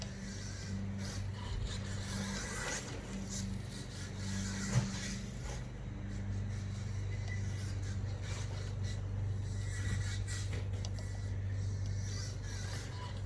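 A ready-to-run T4.2 RC car with a brushless motor runs hot laps on a track, giving a steady mid-pitched motor whine that rises and falls with throttle across the whole run, with one brief sharp knock partway through.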